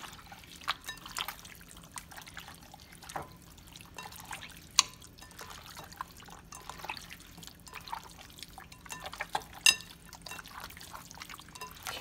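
Wet, juicy seasoned chicken is mixed by hand in a bowl, giving soft squelching drips and sticky slaps that repeat irregularly at close range with no talk.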